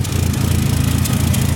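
A car engine, in a car fitted with a T850 transmission, idles roughly with an exhaust leak, a loud close chugging with an uneven pulsing rhythm and no talk over it.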